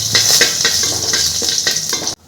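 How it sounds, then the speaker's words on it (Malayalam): Whole spices and two bay leaves fry and crackle in hot oil in a pan for veg biryani, with repeated stirring clinks of a utensil against the metal, close and clear before an abrupt cut. "ഇനി ഇതിലേക്ക് നമുക്ക് സ്പൈസസ് എല്ലാം ഇട്ട് കൊടുക്കാം."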